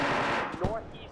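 Gunfire in the military game Arma, set in a modern-day Ukraine vs PMCs operation, comes as a close, rapid burst of automatic shots that quickly tails off, with a voice briefly overlapping.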